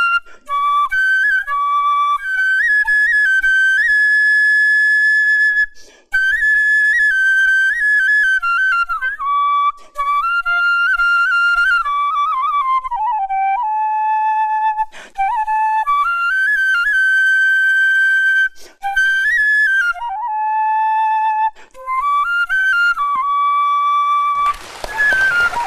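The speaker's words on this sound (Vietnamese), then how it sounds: "Cái tiếng sáo nó ma mị quá." A bamboo flute plays a long, clear, breathy melody with sliding ornaments and short pauses between phrases, loud and close, ending in a burst of noise.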